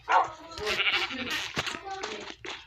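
Sheep bleat in a noisy, overlapping chorus close by, mixed with scattered yelping cries and outdoor commotion.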